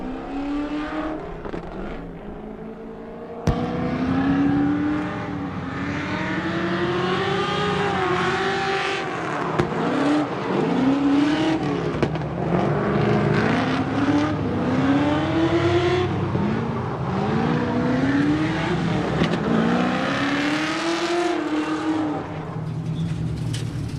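An LS V8-swapped BMW E46 drift car revs hard at a kart track drift competition, its engine rising and falling in repeated wailing sweeps for over twenty seconds, loud and close with no speech.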